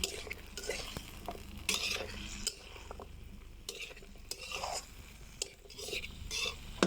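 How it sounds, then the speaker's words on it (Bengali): Flat beans and potatoes tossed with spices in a pan, repeated scraping and clattering strokes of a spoon against metal over a low sizzle, close and fairly quiet. "এখন আমি একটু নেড়ে চেড়ে মশলার সাথে মিশিয়ে দিচ্ছি"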